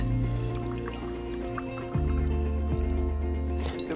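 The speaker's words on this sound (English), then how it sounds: "Bring the water to the boil." Boiling water being poured over chocolate in a kitchen, giving a steady liquid stream and gurgling fill with shifting pitch as the level rises, close and continuous without talk.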